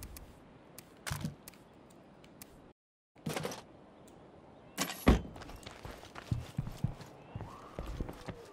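Footsteps in State of Decay 2 land in scattered, uneven thuds and scuffs over a hushed ambient bed, with a brief dropout and a sharper impact midway, some steps near and others fainter.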